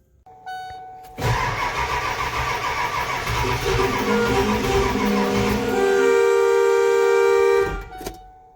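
A Ford 7.3 diesel engine cranks briefly, then catches and runs with a loud, rough, steady clatter that settles into a higher, even drone before cutting off, close by with no talk.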